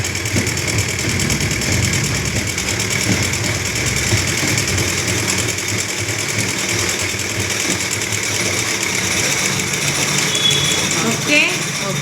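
Near and loud, a sewing machine runs fast and without a break, its motor whirring steadily while stitching the lining and neck piece of a blouse.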